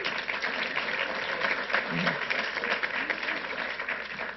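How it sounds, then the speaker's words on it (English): Sustained audience applause for a county executive at a Nassau County gun-safety event in North Hempstead, a dense steady clatter of clapping filling the room, with a faint voice murmuring briefly underneath. "Let's give our county executive another round of applause."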